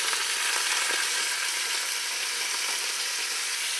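About a pound of ground beef browns in a pan, a steady, dense sizzle and crackle of frying meat, close and continuous with faint stirring scrapes.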